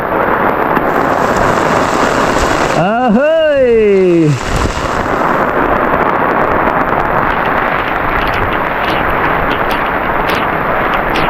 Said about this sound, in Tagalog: malakas yung ulan eh oh, lakas agos sa tubig oh